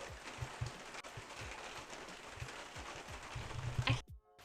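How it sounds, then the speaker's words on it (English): Steady rain patters and hisses on a surface nearby, with scattered heavier drips, then cuts off abruptly at the end. "Are you enjoying the rain?"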